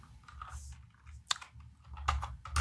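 Quiet, irregular clicks of typing on a computer keyboard, with scattered keystrokes and a few sharper taps over low background hum, close and faint with no speech.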